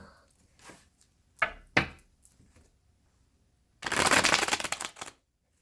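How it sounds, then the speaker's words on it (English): Tarot cards are shuffled quietly nearby: a few soft flicks and taps, then a longer riffling burst near the end. "Do a couple more shuffles after."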